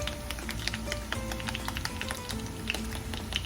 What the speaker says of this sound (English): So just, you know, pick one up and tap it, you know, try to poke it.